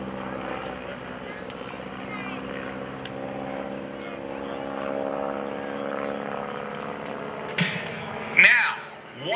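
Propeller drone of a stunt airplane performing low aerobatics at the 2011 Blue Angels Homecoming Airshow, a steady engine tone under distant commentary, with a sharp louder surge near the end as power returns.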